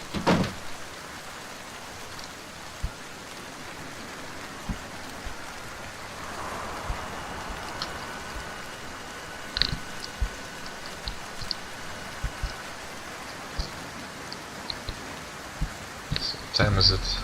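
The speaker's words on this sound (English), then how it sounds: "I wish this rain would stop" Steady rain falls in the video game Morroblivion, a soft continuous hiss with scattered droplet ticks and occasional faint clunks, constant throughout at moderate level.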